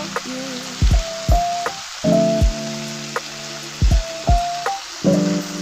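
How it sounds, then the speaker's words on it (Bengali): Vegetable bhaji dressed with lemon juice sizzles in a pan while being stirred, with a soft steady frying hiss broken by repeated scraping, squeaky utensil strokes and clinks at an uneven rhythm. "এই তো ভাজিটা নাড়া দিয়ে দিচ্ছি"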